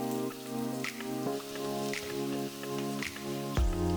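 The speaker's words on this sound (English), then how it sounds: "fry fine strips of ginger and a few slit chilies in oil" Fine ginger strips and slit chilies frying in oil for a chole tadka, a close crackling sizzle with scattered pops over a steady hum.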